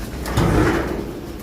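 Soft cooing from racing pigeons close by, low throaty calls over a dull background rumble.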